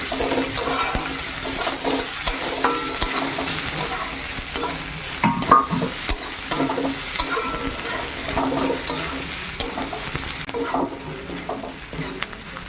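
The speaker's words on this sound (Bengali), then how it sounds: "আদা আর কাঁচা লঙ্কা ভালো করে একটু ভেজে নেই" Ginger and green chillies fry in a pan with a continuous crackling sizzle while a utensil scrapes and stirs, sounding close and steady at a moderate level, with no voices.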